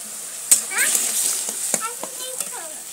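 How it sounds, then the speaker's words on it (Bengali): Poppy seed paste with drumstick flowers and salt is stirred in a frying pan, a soft sizzle under clinks and scrapes of the spatula, with one sharp knock near the start. "দেখো নুন দিয়ে আমি কিন্তু খুব ভালোভাবে পোস্তটা নাড়তে থাকছি।"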